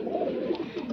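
Pigeons in a breeder's loft make a brief, soft, low cooing murmur, quiet and close, lasting about a second.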